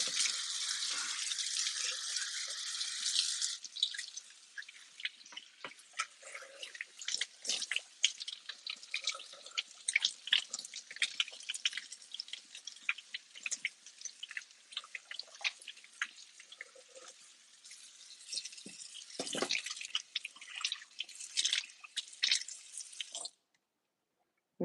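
Dyson cordless vacuum parts rinsed under a running tap into a sink, with a steady close spray of water, intermittent drips and splashes, and brief surges as the pieces shift under the stream; no talking.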